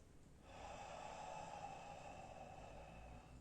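A single long, soft inhalation through the nose, quiet and close, drawn steadily for about three seconds.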